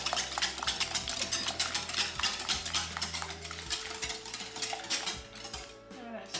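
Eggs and sugar being whisked in a bowl, a rapid rhythmic clatter of the whisk against the sides over a low background hum, close and fairly loud.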